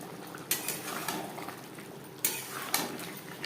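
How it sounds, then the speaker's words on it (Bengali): A spoon stirs ghee and garam masala into a potato and pointed gourd gravy in a pan, with a few sharp scraping clinks against the metal over a faint, continuous simmering hiss. "গ্রেভির সাথে ঘি ও গরম মশলা বেশ ভালো করে মিক্সড করে দেবো"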